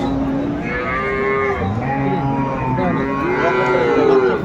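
Several dairy cows and calves at a cattle market in Cumilla moo and low continuously, overlapping calls at different pitches, loud and close, with a steady crowd murmur underneath.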